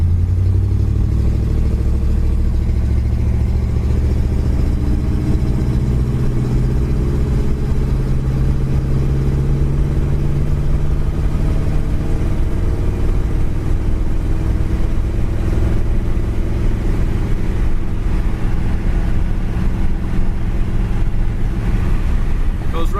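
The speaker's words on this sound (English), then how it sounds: "Just a nice cruising old Ford with a flathead." A 1952 Ford Victoria two-door hardtop with a flathead engine cruises down the road, its steady low engine drone and road rumble continuous and close throughout, without clear changes in pace.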